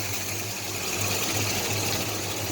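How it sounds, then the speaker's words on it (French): A 1969 Dodge Charger's headlight cover motor hums steadily with a pulsing low drone as it lifts the flap, heard close up and alone. "le clapet s'ouvre comme une porte de garage"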